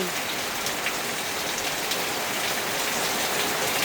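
Steady rain falls outdoors as a dense, even hiss of drops hitting surfaces, continuous and fairly loud throughout with no voices.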